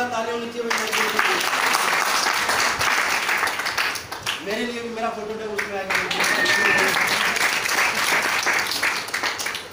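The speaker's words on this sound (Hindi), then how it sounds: "जोरदार तालियों" Loud audience applause at a business training meeting, a steady wash of clapping running under someone talking over it for most of the stretch.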